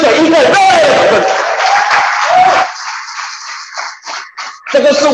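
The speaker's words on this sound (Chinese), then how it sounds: "再给我们的太阳之水一个热烈掌声" A room of attendees at a terahertz water device sales seminar in Kuala Lumpur bursts into loud applause for the product, dense clapping that fades after a couple of seconds as a voice takes over.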